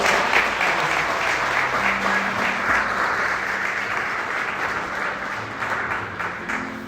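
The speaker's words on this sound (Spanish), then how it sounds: "Un fuerte aplauso a Marcelino." A congregation at a spiritual talk gives sustained, dense applause for Marcelino, a steady loud wash of many hands clapping throughout with faint crowd murmur beneath.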